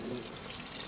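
Water runs steadily out of the plastic fresh water holding tank drain on an Auto Trail 632 motorhome, a continuous close splashing flow with no talk.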